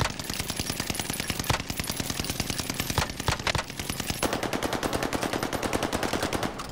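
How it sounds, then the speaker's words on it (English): Rapid automatic gunfire aimed at a helicopter in a shooter video game, a long unbroken rattle of loud close bursts that keeps a fast steady rhythm throughout. "I'm shooting the heli."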